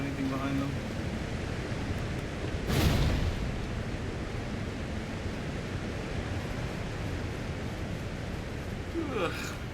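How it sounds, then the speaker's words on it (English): A waterfall rushing in Elden Ring: Shadow of the Erdtree, heard as a steady broadband roar throughout with one brief louder burst partway through, under occasional talk. "Any of these waterfalls have anything behind them?"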